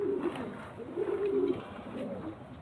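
Pigeons coo softly in a few low, rolling phrases at close range, with quiet background between calls and no voices.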